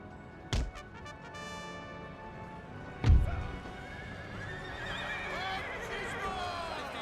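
Cavalry lancers' horses charging in the Napoleon Total War battle, with a sharp whinny near the start and another at about three seconds over a steady rumble of hooves and battle noise, while a voice talks throughout.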